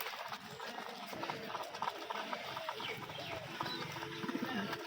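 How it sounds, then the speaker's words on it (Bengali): Pigeons fly down to feed on a pigeon farm, with wingbeats and low cooing in busy outdoor clutter. The sound is continuous and moderately loud, and a voice is faintly present. "সবগুলো কবুতর নামছে আমার এখানে খাবার খাইতে"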